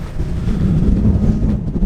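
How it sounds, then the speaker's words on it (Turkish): Strong wind of 40-45 km/h buffets the microphone with a constant deep roar and rumble, loud and unbroken throughout, with no voices. "40-45 kilometre rüzgar var şu anda."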